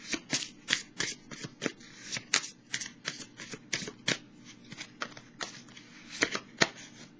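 Tarot cards being shuffled by hand, a steady run of crisp, riffling slaps and flutters repeating through the whole stretch at close range, with no talking.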